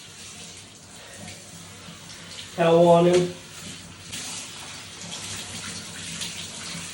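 Tap water running steadily during a dog's bath in a tub, continuous rushing under a person's talk, with a brief louder splash or surge midway.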